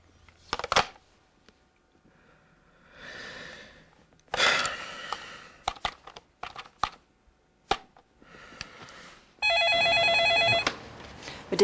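A telephone rings loudly and steadily for about two seconds in an English-learning TV drama scene set around a hotel call. Before it come scattered clicks, taps and breathy gasps with short quiet gaps.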